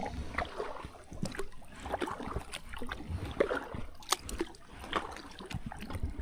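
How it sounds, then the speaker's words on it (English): A canoe paddle dips and splashes in the Ocklawaha River with repeated close sloshes and trickles in an uneven stroke rhythm, fairly loud against the quiet outdoor surroundings. "With this paddle, it's so loud."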